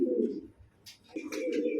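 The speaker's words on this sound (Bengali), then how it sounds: "দর্শক বন্ধু দেখতে পাচ্ছেন এরপর আরো একজন কবুতর আছে, হোয়াইট বিউটি হোমা" White Beauty Homer pigeons coo in low, soft rumbling phrases close by, with a brief pause in between and faint higher chirps over the second phrase.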